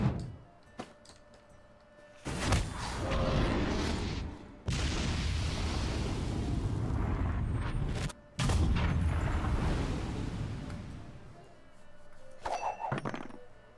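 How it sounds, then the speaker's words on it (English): Fireworks bursting in a video game, a few heavy booms opening into long, dense crackling roars that cut off abruptly between bursts, loud and without talk. "Fireworks."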